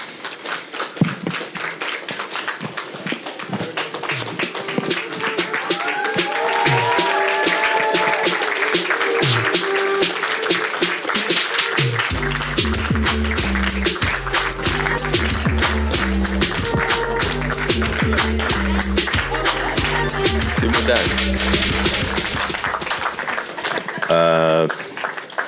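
An audience at an outdoor forum in the KANU Gardens at the KANU headquarters claps for the venue team, producing sustained dense applause with rapid sharp hand claps. Background music and talking can be heard under it.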